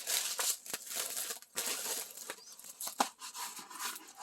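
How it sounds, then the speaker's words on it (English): Plastic bag peeled off a diamond painting canvas and laid down, close crinkling and crackling of thin plastic in irregular bursts with brief pauses and a sharper rustle midway. "I always struggle with laying the plastic bag down after I peel it off."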